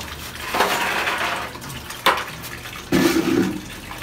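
Crushed coral poured into pond water, three separate splashing bursts with rattling grains, close and fairly loud, with no speech.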